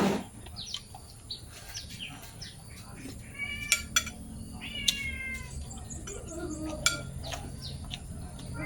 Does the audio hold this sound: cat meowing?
yes